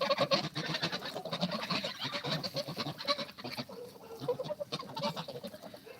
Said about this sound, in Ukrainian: Ось тут у гуска вреднюча.